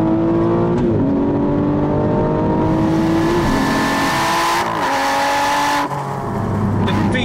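Aston Martin V12 Vantage S in sport mode, its V12 engine revving hard through rising pitch sweeps with gear-change breaks, loud and close throughout with a steady exhaust roar.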